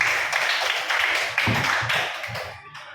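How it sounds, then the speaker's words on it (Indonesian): Students clap in a classroom, a short burst of fairly quiet applause with uneven taps that fades out over a few seconds. "Bagus, tepuk tangan dulu buat kalian semua."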